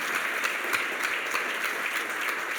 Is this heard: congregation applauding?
yes